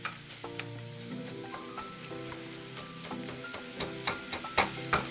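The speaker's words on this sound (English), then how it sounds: "now it's sizzling away, and it's going, and we're keeping up a medium heat here" Chorizo sizzles steadily as it fries in a pan over medium heat, with soft scraping stirs and a few sharper pops, set under a gentle tonal music bed.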